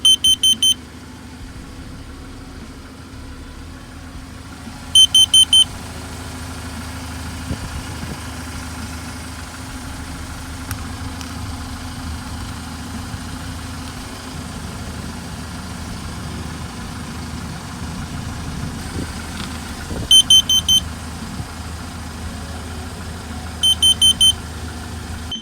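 Car engine idling at the exhaust pipe, a steady low rumble throughout, with short repeated electronic beeps from a gas detector at the start and again near the end.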